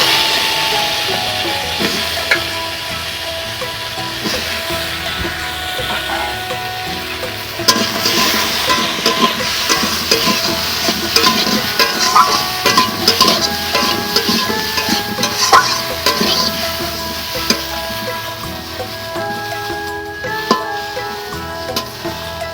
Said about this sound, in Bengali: আমি পটল ভাজার জন্য কড়াতে এখন তেল দিয়ে দিচ্ছি।